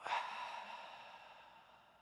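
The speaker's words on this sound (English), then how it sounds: "Big breath in, audible breath out" A single audible exhale during a yoga practice: a soft, close sigh of breath that swells quickly and then trails off slowly into quiet.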